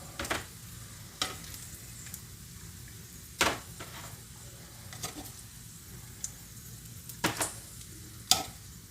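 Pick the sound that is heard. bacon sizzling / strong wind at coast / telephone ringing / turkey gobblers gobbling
bacon sizzling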